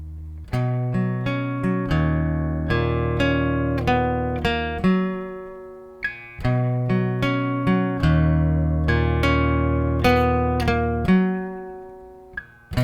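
A guitar plays a repeating riff from a song in two matching phrases of steady plucked notes and ringing chords, loud and close, with no voices.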